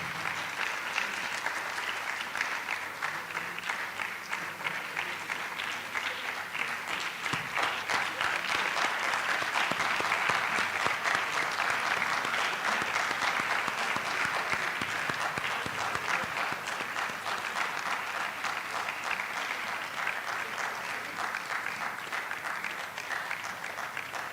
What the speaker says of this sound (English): Please keep clapping till he gets here.